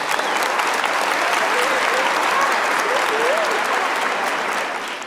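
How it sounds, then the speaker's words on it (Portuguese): Steady, dense applause from a church congregation during a Holy Week sermon, loud and sustained across the whole stretch before tapering slightly at the end, with a few voices calling out underneath. "Uma salva de palmas para Jesus"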